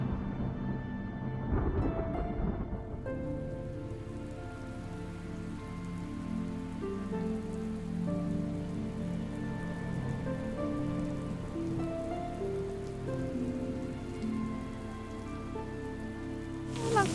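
Steady rain pours down on a surface, a continuous dense patter with no voices, staying even and fairly loud throughout with a brief stronger burst near the start.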